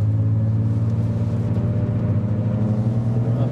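A Nissan Skyline R33 GTS25T Spec 1, rated 250 horsepower and 294 Nm, drives along with a steady, loud, low engine drone and rumble heard from inside the car, without talk.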